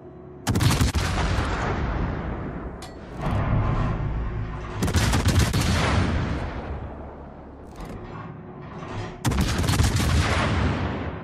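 Heavy warship guns fire in World of Warships, a few deep, thunderous salvos spaced several seconds apart, each with a long rumbling decay, loud and close with no talking.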